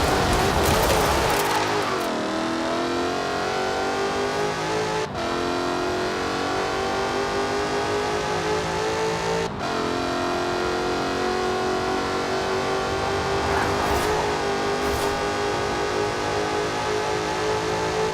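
Jaguar Project 7 sports car in Forza Horizon 4 driving with a steady, loud engine drone, revving briefly at the start and holding a sustained tone with a couple of shifts, no talk over it.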